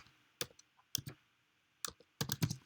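Keystrokes on a computer keyboard entering an email address, heard as a few scattered clicks followed by a short quick burst of taps, close and fairly quiet with no talking.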